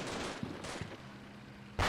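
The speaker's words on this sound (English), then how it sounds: "This is probably the sound of Chap's infantry over here shooting the snot out of these buildings" Infantry gunfire crackles in the war game Combat Mission Shock Force 2, a few sharp distant shots over a rumbling battle backdrop, ending in a louder burst.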